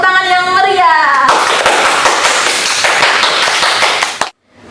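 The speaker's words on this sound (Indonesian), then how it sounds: "beri tepuk tangan yang meriah" Classroom applause for a student's answer in a lesson, a burst of close, loud clapping from a small group that follows a voice and cuts off abruptly near the end.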